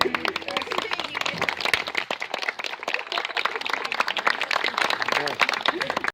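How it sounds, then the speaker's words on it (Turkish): Applause from a small crowd on the behind-the-scenes set of a music video shoot. It is a dense patter of clapping, moderately quiet, mixed with voices. "alkış."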